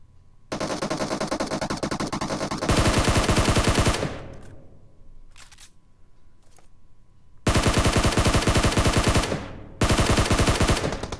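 Automatic gunfire rings out in a PUBG Mobile classic match during a squad fight, in loud, close, rapid bursts with a quieter stretch of distant shots in between.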